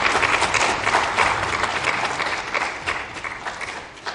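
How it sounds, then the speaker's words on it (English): A conference audience at a waste-management sustainability event in Manchester gives a round of applause for volunteers, with thick, continuous clapping that stays close and loud before easing off slightly at the end. "can I please get a round of applause for everyone and all that I've thanked here today"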